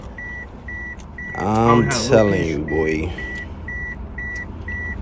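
Beeping from outside, not from the car, repeats as short, evenly spaced tones all through, while someone speaks loudly and strains in the middle.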